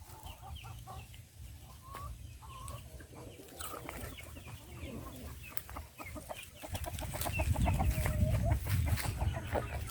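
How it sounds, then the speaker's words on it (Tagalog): Chickens cluck and squawk steadily on a farm in Daanbantayan, Cebu, a dense flock chattering close by with a low rumble underneath that grows fuller toward the end. "Saya ng mga manok guys."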